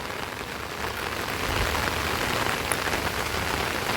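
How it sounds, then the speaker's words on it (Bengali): Heavy monsoon rain falls steadily at Jhaluarber rail station, a dense continuous patter and hiss that swells slightly partway through. "কিন্তু বৃষ্টি ভালোই হচ্ছে।"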